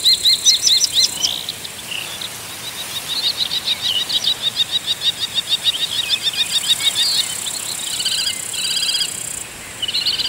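Grasshoppers and crickets in Shirvan National Park chirp in loud, rapid pulsing trills, close and continuous, with bird calls mixed among them and no talking.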